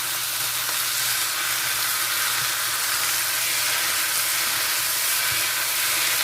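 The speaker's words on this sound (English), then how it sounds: "We dump out the beef and the onions with all the remaining sauce" Beef, onions and sauce sizzle loudly in a hot pan as they are stir-fried for hor fun rice noodles, a steady, dense crackling hiss with soft stirring knocks throughout.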